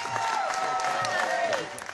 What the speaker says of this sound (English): Applause and the signs go up